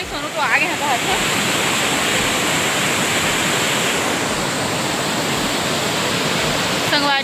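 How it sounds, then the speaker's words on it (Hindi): A waterfall at a busy picnic spot roars loudly and steadily, a dense unbroken rush of falling water close by, with a brief voice rising over it near the start. "और झरना के तेज आवाज़ संगवारी हो"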